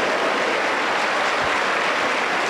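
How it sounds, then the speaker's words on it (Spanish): A Pentecostal church congregation in Junín, Peru, applauds as a pastor is welcomed, a steady, dense wash of clapping filling the room for the whole stretch without pause. "le recibimos con fuerte aplauso para el Señor Jesús"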